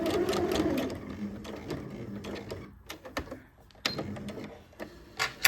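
A home sewing machine stitches a dart on a lace camisole, running in fast bursts that slow, stop and start again, with small clicks and handling noises nearby.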